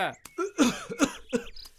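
A few short, close coughs and throat-clearing bursts, spaced irregularly, with voiced, throaty sounds between them.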